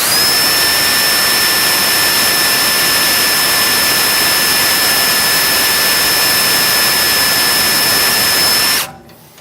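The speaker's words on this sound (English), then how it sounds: "So I've finished drilling the holes." A loud, steady high-pitched whine of a power drill drilling holes, running continuously for several seconds, then cutting off abruptly at the end.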